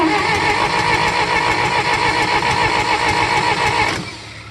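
A John Deere engine turns over on a cold start, a steady dense mechanical chugging that runs loud and close for about four seconds before dropping off sharply near the end.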